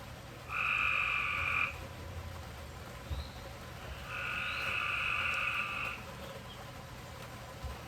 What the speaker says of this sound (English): Oh, can you hear those frogs?